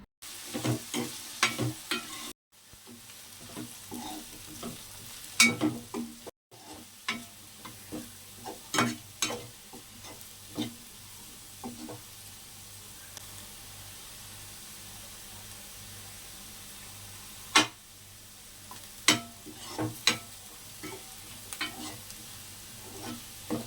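Potatoes fry in hot oil for potato fried rice, with a steady sizzle under repeated scraping and clattering strokes of a spatula stirring the pan. The strokes are irregular and close by.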